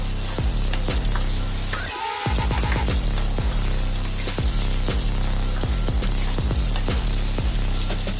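Potatoes frying in oil in a pan, a loud continuous sizzle with regular scraping and clinking as a spatula stirs them close by.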